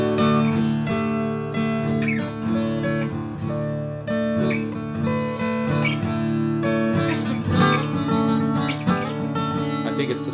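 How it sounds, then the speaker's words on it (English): Guitar chords in an altered tuning ring out in a rhythmic strum pattern, full and resonant with overlapping sustained notes, playing steadily with no talking. "I think it's the sound of the chords as well as the strum pattern."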